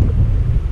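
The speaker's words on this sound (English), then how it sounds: "here comes the wind again" Loud, rumbling wind of about 15 miles per hour buffets the microphone outdoors while kayak fishing, in a continuous low roar, with no voices.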